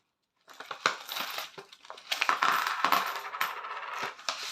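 Loose coins clink and rattle as they drop into a paper budget envelope, a busy run of bright metallic jingles and small impacts, close and fairly loud.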